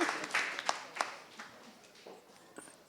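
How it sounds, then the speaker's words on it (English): Scattered applause from a small crowd, a few claps standing out before it thins and fades away. "you really getting all the round of applause, huh?"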